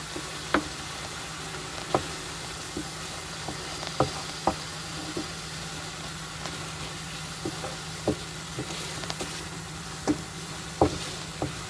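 A fried egg curry sizzles steadily in a pan while a spoon stirs it, its scrapes and knocks landing in an irregular rhythm over the constant hiss.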